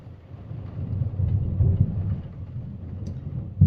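Thunder rolls during a heavy thunderstorm downpour, a low rumble that swells and fades, with rain beneath it and no talk.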